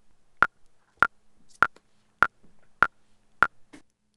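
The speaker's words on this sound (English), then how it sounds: "Now here is the sound of the cluster test with me and two other musicians in it in Texas" Several metronomes streamed from musicians in a Texas cluster test session with fair latency, heard as six evenly spaced sharp clicks with faint smeared extra ticks around them, quiet and otherwise silent.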